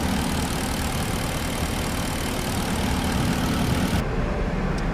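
A Porsche Cayenne engine idles at operating temperature after a water pump change, a steady broadband rumble holding constant and close throughout, with the high end briefly thinning near the end.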